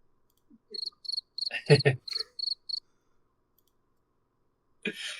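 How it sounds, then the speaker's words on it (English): A cricket chirping sound effect plays as a quiet gag cue, a series of short, evenly spaced bright chirps standing alone, followed by silence and then a brief burst of noise. "if a joke doesn't land, there's a cricket."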